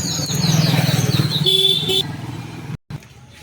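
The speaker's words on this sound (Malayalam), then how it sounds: "അവൻ ബൈക്കിൽ കയറി അത് നോക്ക്" A motorcycle engine revs and pulls away, loud and close at first, with a short car-horn toot partway through before the sound cuts off briefly and fades into faint background noise.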